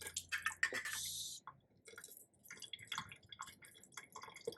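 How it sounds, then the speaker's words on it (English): Water drains out of a tuna can in short trickles and drips, a quiet close splattering that starts and stops in uneven bursts with brief pauses between. "you have to drain water from the can,"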